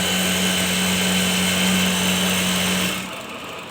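A threaded sewing machine runs with a steady, whirring motor hum for about three seconds, then winds down to near silence.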